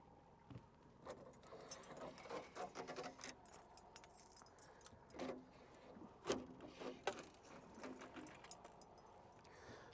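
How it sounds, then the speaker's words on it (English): An electric trolling motor hums quietly at low level on a fishing boat out pike fishing, with scattered clicks and light knocks from gear handled nearby. "Trolling motor is in action."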